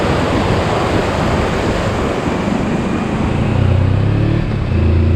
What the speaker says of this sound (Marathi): काही ठिकाणी हा पाण्याचा प्रवाह आणि त्याचा आवाज धडकी भरवत होता